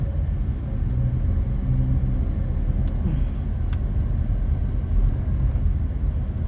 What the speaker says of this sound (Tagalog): maraming sasakyan dito.